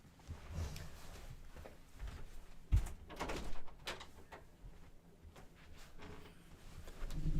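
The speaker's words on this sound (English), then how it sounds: "I'm going to step away from a second and open my door" A door is opened in a quiet room, giving a soft sliding rumble and a short thump midway, with faint rustling and handling noises around it and no speech.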